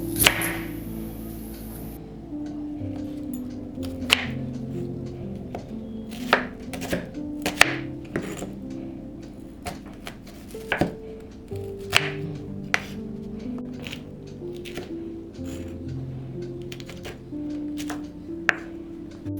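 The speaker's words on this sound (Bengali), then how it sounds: "পেঁয়াজ নিয়েছি আর কাঁচা লঙ্কা পেঁয়াজটা একটু ছোটো ছোটো করে কেটে নিই" Onion and green chilli chopped into small pieces on a board for steamed bele fish, with a steady run of sharp knife taps at irregular spacing against faint background music.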